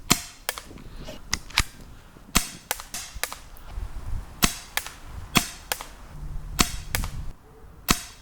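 Airsoft gun firing single shots at a target, sharp close snapping cracks spaced irregularly about half a second to a second apart, with no voices.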